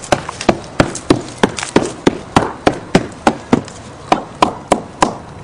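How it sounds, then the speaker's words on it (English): A rubber mallet knocks repeatedly on rotten willow oak wood on a residential property: about fifteen dull, close thuds in a steady, even rhythm, with no voices. "This is the sound of rotten wood."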